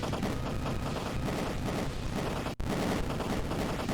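Dense, continuous barrage of explosions and gunfire-like blasts from the video game Freddy in Space 2, loud and unbroken except for a split-second cutout partway through, with no talking.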